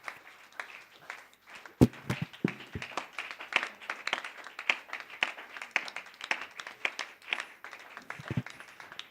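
A church congregation claps their hands in praise, producing a brisk, continuous run of overlapping claps at a lively, fairly even rhythm, with one louder smack near the start, at moderate distance.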